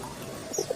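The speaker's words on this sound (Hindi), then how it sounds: "बाहर से कबूतरों की आवाज आ रही है।" A few soft, low coos from pigeons toward the end, close by over a quiet room background.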